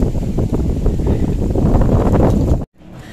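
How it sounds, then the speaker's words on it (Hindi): Strong, steady wind roaring by a lake at Nainital, a loud continuous rush of gusty buffeting that stays dense throughout before abruptly cutting off at the end. "और हवा की आवाज आप सुन सकते हैं बिल्कुल।"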